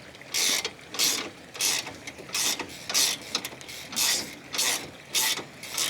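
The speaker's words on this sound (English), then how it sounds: "what we're going to do is get our ratchet" Ratchet tightening a nut on a Cobra Fortis 17E cordless lawnmower, a series of about nine quick, crisp clicking bursts in a steady rhythm, close and clear with no talk.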